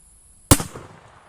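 A single sharp 6.5 Carcano rifle shot with a cut-down gain-twist barrel cracks close and loud, then rings out in a short decaying tail against a quiet background.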